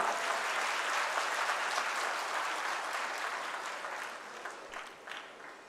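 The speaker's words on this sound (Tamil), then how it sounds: "இன்னும் சத்தமா பெரிய கைத்தட்டல் கொடுக்கலாமா?" A sustained round of audience applause at a national SC-ST hub conclave, dense clapping from a crowd in a hall that holds steady, then slowly thins and fades toward the end.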